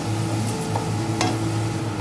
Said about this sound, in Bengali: এটাকে এখন আমি ভালো করে কষিয়ে নেব